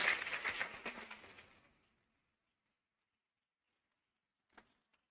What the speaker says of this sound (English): A huge round of applause for our chief guest again,